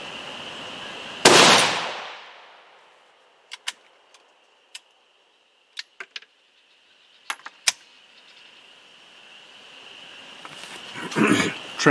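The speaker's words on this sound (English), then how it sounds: "At this point, I'm just shooting the large steel plate." A .223 rifle fires once with a sharp, loud report, followed by a scattered series of short metallic pings and clinks, then rising rustle near the end.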